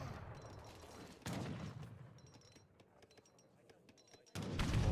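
Culverin artillery fire in the video game Age of Empires III, with low booming blasts and crackling battle noise, two louder thumps standing out amid fainter distant shots and chimes.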